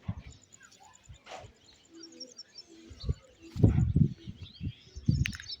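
Pigeons cooing in low, soft throaty bursts, nearby, with chirps and other bird calls around them.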